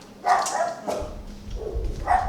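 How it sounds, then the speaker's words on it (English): Several sharp barks from two dogs, moderately close, coming in quick bursts with short pauses between them. "Oh dear, 2 dogs barking."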